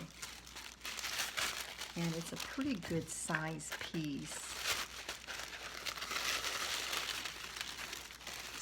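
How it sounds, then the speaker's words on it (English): A good-sized piece of tissue paper from a mixed media craft kit crinkles and rustles continuously up close while a person talks over the handling. "we've got a piece of tissue paper"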